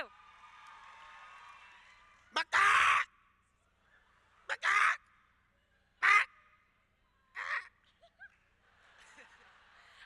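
A person imitates a rooster crowing, several loud drawn-out calls separated by pauses, with a quieter background between them.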